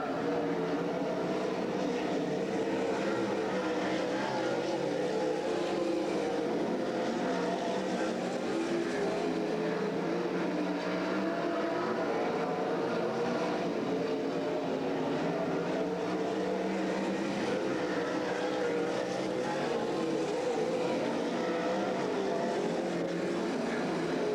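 360 sprint cars roar continuously around Grays Harbor Raceway in 1999, a sustained engine drone rising and falling as cars pass, heard from a distance with steady crowd-like noise.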